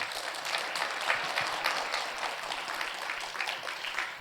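Lively, dense clapping from an audience at a Lenten prayer gathering in a Catholic retreat house, continuing evenly for a few seconds without talk.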